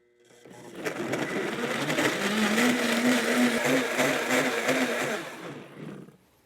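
A countertop blender runs for about five seconds, liquefying anchovies into a base for homemade Worcestershire sauce, its motor whirring steadily and loudly close by before cutting off.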